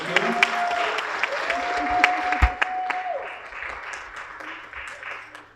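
Crowd applause, steady clapping from many hands with a few voices and cheers mixed in, fading toward the end.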